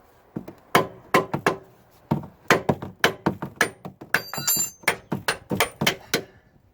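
A control arm pin on a BMW E60 5 Series being hammered back in with a nut threaded on its end: a rapid series of sharp metallic blows, close and loud, in uneven bursts.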